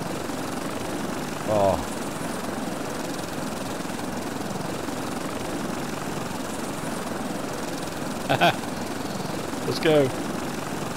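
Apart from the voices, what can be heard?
helicopter flying in video game Stranded Deep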